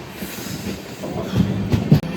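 A passenger train bound for Tirupati runs along the rails near Yelamanchili, a close, loud rumble with rhythmic wheel clatter and brief metallic squeals building toward the end.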